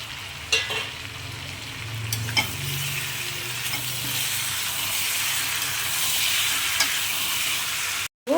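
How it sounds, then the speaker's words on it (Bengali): Chicken meat sizzling in a pan with sautéed vegetables for a chicken vegetable soup, a steady bright hiss and crackle with a few spoon-stirring clinks, close and fairly loud, no talking. "এবারে আমি মাংসগুলো ঢেলে দেবো"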